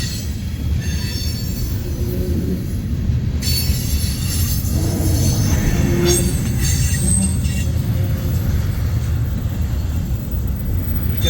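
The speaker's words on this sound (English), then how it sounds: "There's going to be 2 mid-train DPUs on this and more train coming." A freight train with mid-train DPU locomotives rumbles steadily past at close range, its wheels grinding and squealing on the rails in a loud, continuous roar.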